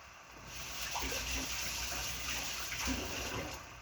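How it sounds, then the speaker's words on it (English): Hands rinsed under a running kitchen tap, a steady soft stream of water with slight splashing changes as the hands move, fairly quiet and close with no talk. "Let me rinse off my hands."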